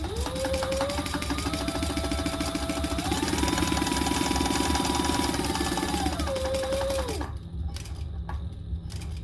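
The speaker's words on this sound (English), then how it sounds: "Now we're just gonna top stitch that top." A sewing machine top stitches a mini backpack in one long close run, its motor pitch climbing and settling before the stitching stops, followed by quiet handling sounds.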